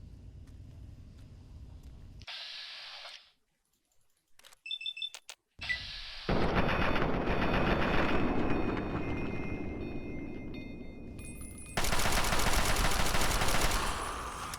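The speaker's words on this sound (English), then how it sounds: "Let's shoot his dumb ass in his head" Gunfire in Fallout 3, with a brief gap of near-silence and a few short clicks before a long, loud, dense roar of shots and blasts that swells again near the end.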